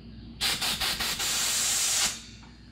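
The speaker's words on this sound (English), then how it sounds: "I'm just going to spray slow" Aerosol carburetor cleaner sprays into the carburetor of a 1987 Yamaha TW200, hissing for about two seconds, starting with a few short bursts before a continuous blast, then stopping abruptly.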